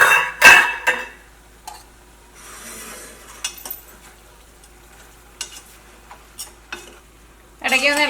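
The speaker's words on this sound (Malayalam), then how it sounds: "ഇടയ്ക്ക് ഒന്ന് ഇളക്കിയിട്ട് കൊടുക്കുക" Kerala-style chicken curry being stirred in a pan, with a few scraping clinks of a spoon against the metal and a soft sizzle between quieter gaps, near and moderately loud.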